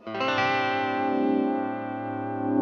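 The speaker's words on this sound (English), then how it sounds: "you could do this with a vibrato pedal and a Univibe" A guitar chord rings out through a pedal combining vibrato and Univibe effects, its sustained tone wobbling and pulsing as it fades slightly, heard close and alone.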